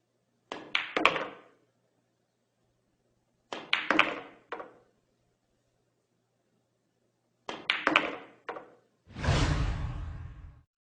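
A cue strikes the cue ball just below center for a stun shot, played straight on in front of a billiard table's side pocket. Three separate clusters of sharp, close clicks sound, followed by a longer rushing burst at the end, with no talking.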